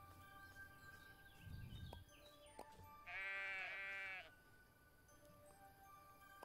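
A sheep in the farming video game Everdream Valley gives one clear, wavering bleat of about a second, rising above quiet ambient game sound and faint background noise.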